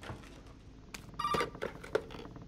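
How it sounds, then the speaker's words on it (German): Inside the video game Resident Evil 7, a telephone rings with short electronic trill bursts amid faint game ambience and clicks, moderately close and without talk. "Schon klingelt das Telefon."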